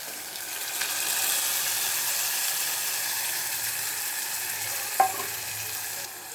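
Cooked, mashed lentils go into a pot of tomato rasam and get stirred, giving a steady close sizzle and bubbling with a brief clink near the end and no talking.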